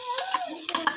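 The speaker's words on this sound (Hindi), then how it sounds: "2 से 3 मिनट तक आलूओं को भी फ्राई कर लेंगे अच्छे से" Finely chopped potatoes with onions fry in ghee, a brief stir with a scrape and a sizzling hiss underneath, close up and without talk.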